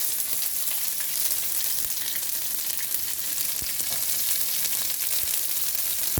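Mustard seeds splutter and crackle in hot oil alongside fennel seeds, green chilli and onion for a Brussels sprouts curry: a steady, close sizzle dotted with sharp little pops, with no voices.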